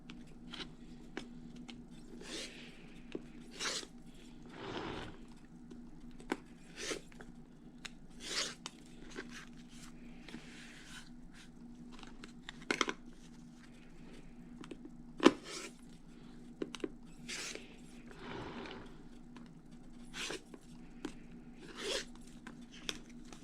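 Quilt block sides being trimmed, likely with a rotary cutter against a ruler: several short, soft, close rasping cuts spaced a few seconds apart over a steady low hum.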